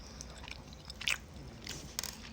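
Someone bites and chews Swedish sweet-mix jelly candy close to the mic, giving soft, sticky mouth sounds with a couple of sharper bite clicks over a quiet background, and no talking.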